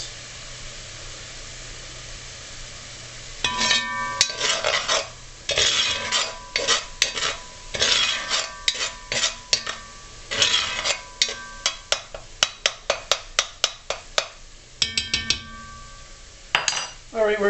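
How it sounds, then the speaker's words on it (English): Onions being cooked for Salisbury steak sizzle softly in a pan while a utensil scrapes and clanks against the metal in repeated bursts of stirring, close by, with a quieter sizzle before the stirring begins. "Alright, we're going to continue cooking the onions."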